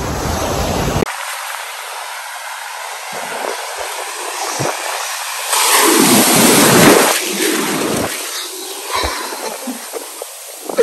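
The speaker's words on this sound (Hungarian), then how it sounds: "amúgy óriási hullámok" Large ocean waves breaking on a cold Portuguese coast, a loud continuous roar of surf with surges and wash rising and falling, close by.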